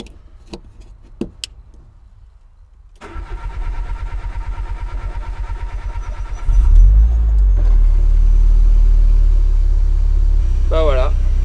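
An E85 fuel pump in a car's fuel feed module runs after its polarity is reversed: a few sharp clicks, then a steady mechanical hum kicks in and grows louder and rumbling, with a brief voice-like chirp near the end.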